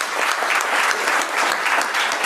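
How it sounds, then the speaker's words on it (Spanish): Steady applause from an audience at a panel on AI and work, welcoming a PwC consulting partner; dense, even clapping fills the short stretch at constant loudness with no voices on top. "Un aplauso para él, por favor."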